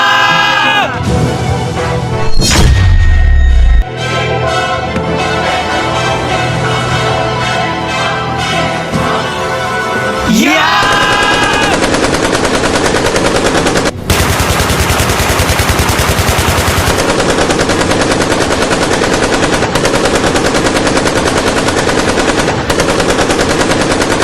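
Loud, sustained machine gun bursts and rapid gunfire in an Indian Army battle scene, dense and continuous over dramatic music, with a brief lull before the firing resumes.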